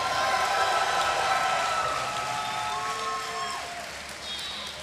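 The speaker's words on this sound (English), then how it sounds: "Give a cheer for SKMC." Esports crowd at a Red Bull Battlegrounds grand finals in Austin applauding and cheering steadily, a broad wash of clapping and voices that fades slightly toward the end.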